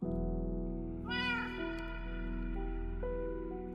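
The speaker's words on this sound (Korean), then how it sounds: "고양이 소리 내지 마 임마!" A cat meows repeatedly in a video game, rising, drawn-out calls over a steady background hum and music, loud and close.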